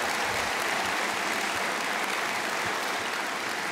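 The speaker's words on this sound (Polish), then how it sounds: "Wielkie brawa." Dense, continuous audience applause after a political speech introduction, a steady wash of many hands clapping at a moderate level from start to finish with no talk over it.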